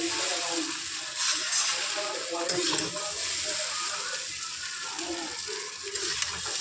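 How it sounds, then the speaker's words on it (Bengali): Chow mein is tossed and stirred in hot oil, giving a continuous sizzle with scraping and clattering from the utensil against the pan. The sound is steady and close, with no talking. "আমি সমস্ত চাউমিনটা এখন মিক্স করে নিই"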